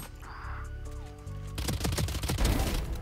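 Valorant gunfire erupts after a moment of game tones and ambience: a loud, close barrage of rapid automatic shots filling the last second and a half, with no talking.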